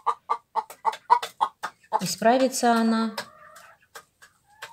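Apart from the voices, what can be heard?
hen clucking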